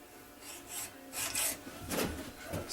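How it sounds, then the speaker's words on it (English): A hacksaw with a worn-out blade cuts through a bronze thrust washer during a 1980 Can-Am MX-6 125 restoration, making rhythmic rasping strokes that rise and fall in close, moderately loud bursts. "The hacksaw blade's about wore out."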